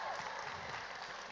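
Audience applause after a comedic line at a book talk, a brief steady wash of clapping filling the room at moderate level, with no speech over it.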